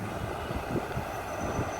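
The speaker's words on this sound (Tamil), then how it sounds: "அதான் ட்ரெயின் வருது பாருங்கள் எலக்ட்ரிக் ட்ரெயினுங்க" Electric local train pulling into a station, a loud close rumble of wheels and carriages with rhythmic clacks as it rolls in, no voices.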